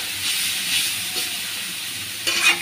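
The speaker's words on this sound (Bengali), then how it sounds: "আমার শাকগুলো, লাউ পাতার শাকগুলো ভাজা ভাজা হয়ে গেছে" Bottle gourd leaves fry in a pan with a steady close hiss and sizzle throughout. The sizzle swells briefly near the end, and no one speaks.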